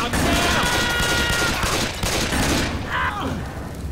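Rapid gunfire in the video game Left 4 Dead 2, a dense, loud continuous burst of shots filling most of the moment, with a faint voice near the end.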